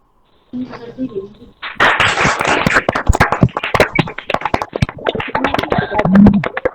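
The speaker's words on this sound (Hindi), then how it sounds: "तालियों से स्वागत करें प्लीज" Audience claps to welcome a student at a language event, a brief spoken line giving way to a burst of loud, uneven clapping from a modest group that continues strongly to the end.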